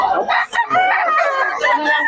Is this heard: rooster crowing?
yes